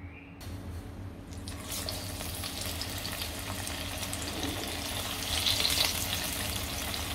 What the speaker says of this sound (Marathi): आता आपण डीप फ्राय करूया.